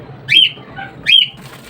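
A small caged bird gives two rising, whistled calls about a second apart, clear and close over faint background noise.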